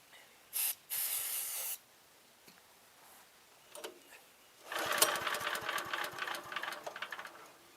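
Brake cleaner aerosol sprayed in two short bursts into a small engine on an abandoned chipper, each a sharp close hiss, followed by a longer rattling, clattering mechanical stretch.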